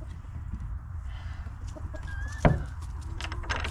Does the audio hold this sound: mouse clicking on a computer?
no